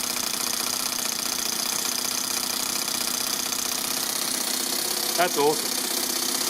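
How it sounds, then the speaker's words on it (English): Four-stroke overhead cam engine fitted in an RC car, idling with a steady mechanical buzz up close; a person speaks briefly near the end. "And now it's sounding like a little 4-stroke."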